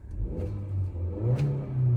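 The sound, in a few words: Kia Seltos car engine starting and revving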